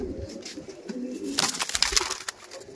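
Andhra pigeons coo nearby, a low throaty murmur running under brief scuffling and wing-flutter noises in the middle of the stretch.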